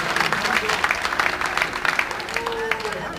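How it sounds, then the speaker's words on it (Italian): Audience applause for a school official at a historical event in Anagni, a busy mix of close, sharp claps and crowd murmur, with faint voices blending in near the end. "il professor Roberto Chiararia, al quale facciamo un bel applauso"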